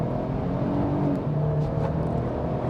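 A 2025 Nissan Armada SV accelerates from inside the cabin, its engine note rising in a smooth, moderate hum with low rumble and a faint whir, no talking over it.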